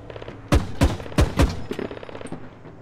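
Cannon on a ZBL infantry fighting vehicle in the Squad video game fires four heavy, loud shots at a steady pace, each with a sharp crack and booming tail, followed by fainter scattered distant fire.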